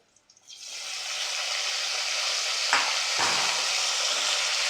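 Green chillies sauté in a pan over a low gas flame, a soft steady sizzle that starts after a brief quiet moment, with a couple of stirring scrapes partway through.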